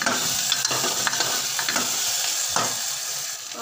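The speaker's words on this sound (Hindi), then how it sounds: "आलू को अच्छे से घुमाएंगे" Potatoes frying in a pan sizzle steadily while a utensil stirs them, with several scraping strokes scattered through the close, continuous crackle.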